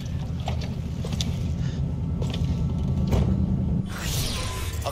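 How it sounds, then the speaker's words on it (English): A boat engine idles in the open-world game Cyberpunk 2077, a steady low rumble with water and wind noise layered over it, holding at an even, fairly loud level with no talking. "I'll keep the engine running."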